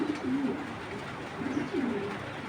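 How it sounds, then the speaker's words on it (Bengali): An oriental magpie robin calls several times in short, warbling phrases, fairly close, over a steady background hiss with no talking. "এটা হলো অরিজিনাল দোয়েল পাখি"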